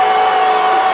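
A WWF wrestling crowd at Maple Leaf Gardens in 1984 roars in a loud, dense, continuous wall of cheering and shouting.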